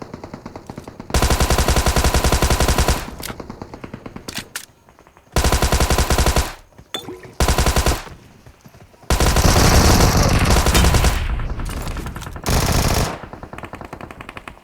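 A Thompson submachine gun fires in the BGMI mobile battle game, loud close full-auto bursts of several seconds each with short pauses between them, no talking.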